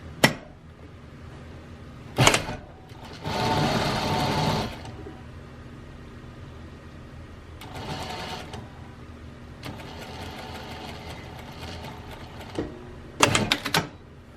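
Sewing machine stitching a butterfly seam with backstitching at the edges, heard in several separate bursts of whirring needle runs with quiet pauses between, close and fairly quiet.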